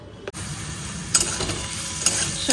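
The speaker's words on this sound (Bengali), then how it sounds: "সাদা তেলের মধ্যে একটুখানি জোয়ান আর হিং ফোড়ন দিয়েছি, আর দেখো পেঁয়াজ কাঁচা লঙ্কা দিয়েছি" Onions and green chillies sizzle in white oil tempered with ajwain and hing, a steady close frying hiss broken by a few sharp stirring scrapes, with no talking.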